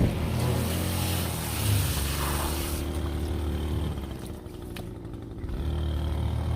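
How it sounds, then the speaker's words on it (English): A gas string trimmer drones on a neighbor's lawn, a continuous buzzing whine heard from a short distance. It dips briefly midway, then resumes at an even level, with no voices. "now the neighbors are weed eating their lawn."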